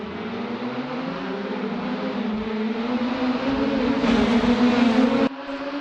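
Caterham 420R race cars pull away from the start at Oulton Park, their engines rising together into a sustained, building drone of revving motors heard from a distance before the sound drops slightly at the end.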